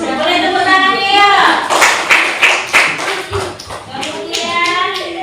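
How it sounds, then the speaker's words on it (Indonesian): Schoolchildren in a fifth-grade classroom clap together in a fast, uneven burst of hand claps, with children's voices and chatter mixed in throughout. "Boleh tepuk tangannya ya."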